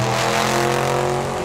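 A Tesla launches off the starting line at Tucson Dragway during a drag race, producing a loud, steady tonal whine and roar that holds for the whole moment, with no talk over it.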